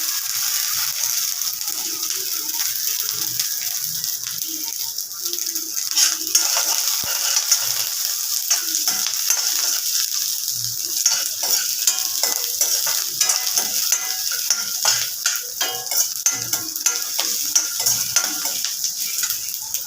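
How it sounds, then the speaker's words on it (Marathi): Peanuts roasting in a pan while being stirred, a continuous dry sizzle with dense rattling and scraping of the nuts, close and steady with no talk. "शेंगदाणे भाजून झाले, काढून घेऊया"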